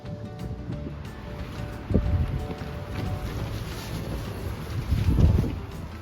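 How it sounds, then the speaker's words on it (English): Gusty wind rushes across a tent campsite, a continuous close rumble of microphone buffeting that swells in two stronger gusts, with no talking. "Quite windy today. We're supposed to have wind gusts up to 20 miles per hour"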